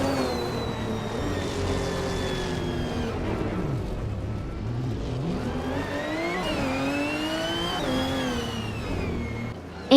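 Racing video game with a field of Lola Austin Martin B0960 race cars, engines revving up and down in sweeping pitch changes, continuous and fairly loud, several cars layered together.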